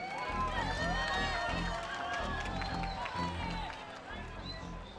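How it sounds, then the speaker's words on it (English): Crowd applauding and cheering for two boxing champions at an International Boxing Day event, a sustained roar of clapping and voices filling the hall, loud and continuous under a background announcer's voice. "last big applause for those 2 champions."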